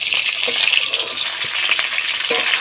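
Boiled jackfruit pieces frying in hot oil in a pan while being stirred, a continuous bright sizzle with occasional spatula scrapes, close and loud throughout, no voices.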